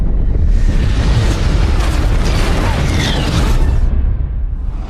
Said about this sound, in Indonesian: bom tersebut akan meledak beberapa detik lagi